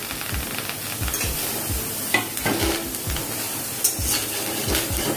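Cubed onion and tomato are stirred in a pan over low heat. A gentle sizzle runs beneath repeated scraping strokes of a spoon against the pan, steady and close, with no talking.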